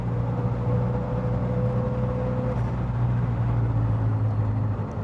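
A Lotus Esprit engine pulls the car along a road, giving a steady low drone with a faint tonal whine that holds evenly throughout, without any talking.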